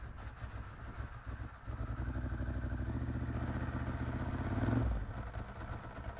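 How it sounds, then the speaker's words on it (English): A Ducati Monster S4R V-twin cranks and fires, then settles into a lumpy, uneven idle with the rattling clatter of its dry clutch. Revs swell briefly before dropping back. The sound is close and fairly quiet. "got that click-a-clatter, typical dry clutch sound"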